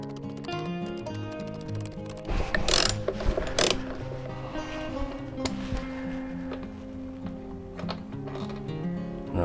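A ratchet wrench loosening an 8 millimeter bolt on a motorcycle fork, close rapid clicking of the pawl in repeated bursts, with metallic taps between strokes.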